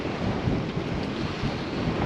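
Strong wind buffets the microphone on a sea wall during surfcasting, a dense, continuous low rumble with surf-like roar and no break, close and loud.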